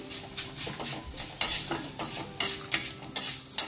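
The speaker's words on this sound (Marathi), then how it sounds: "त्यानंतर गहू तळताना तेल फारच कमी लागतं, पण कढई गरम असायला हवी" Wheat grains fry in a little oil in a hot kadhai while a spoon stirs them, a steady close sizzle broken by repeated scraping strokes and metallic clinks against the pan.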